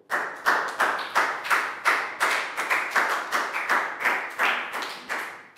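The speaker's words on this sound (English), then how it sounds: "Big round of applause for Nadia." Steady rhythmic clapping in a primary school science lesson, one pair of hands striking at an even pace, close and bright, with no voices.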